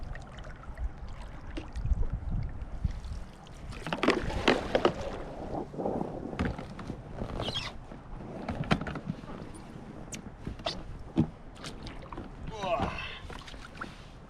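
A solo canoe is paddled on a whitewater river, with splashes and paddle strokes over rushing water and wind buffeting the microphone; a voice is heard speaking in places.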